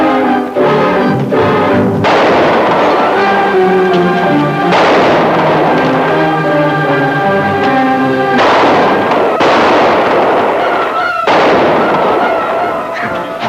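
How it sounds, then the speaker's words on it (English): Gunfire in a shootout set in the old West, with rapid cracking shots and explosive bursts that ring out repeatedly and loudly over a dense, busy soundtrack for the whole stretch. "Keep firing, Jake."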